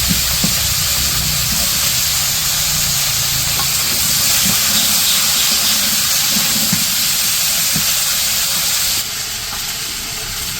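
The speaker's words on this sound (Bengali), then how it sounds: "এগুলো এখন একটু ভাজা নিব তেলের মধ্যে" Potatoes and home-grown eggplant fry in oil, giving a steady close hiss and sizzle that runs throughout, with a few faint clicks and a slight drop in level near the end.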